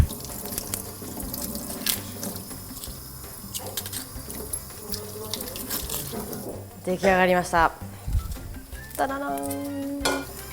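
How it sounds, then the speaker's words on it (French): Cold water runs from a tap while onions are peeled under it for a French veal blanquette, a steady splashing stream with occasional clatter and watery gurgles, and a person talks over it. "c'est de découper les oignons et de les éplucher sous l'eau froide"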